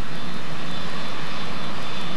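A British Aerospace 146 jet airliner's engines give a loud, continuous roar, a dense broadband rumble that holds steady without a break.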